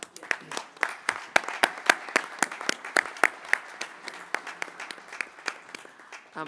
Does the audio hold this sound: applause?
yes